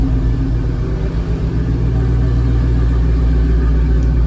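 A lifted 2004 Chevrolet Silverado with a 5.3 V8 and side-exit exhaust idles and is given gas, a loud, steady low rumble with no talking.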